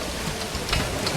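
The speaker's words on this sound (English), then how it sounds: "Listen, as the rain falls upon tiled roofs" Rain falls steadily on tiled roofs in the medieval village game Manor Lords, a dense, even hiss of drops with no breaks or voices.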